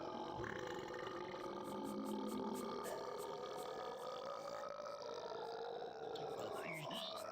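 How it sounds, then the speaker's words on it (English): An exaggerated, drawn-out burp from the game The Neverhood rolls on for several seconds with a wobbling, croaky pitch over a busy background of tones and music. "I forgot how long that burp goes on for."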